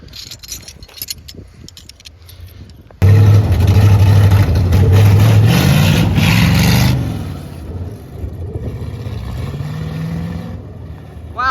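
A Crosley hot rod car drives a lap around a workshop. The engine roars in loudly and suddenly, stays at a strong, rattling drone for several seconds, then eases to a steadier, lower running sound.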